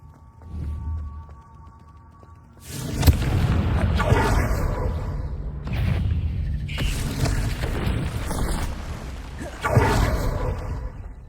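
A burst of blasting booms from a Confringo spell in a Hogwarts video game, followed by several loud rumbling impacts and whooshes that swell and fade over about eight seconds.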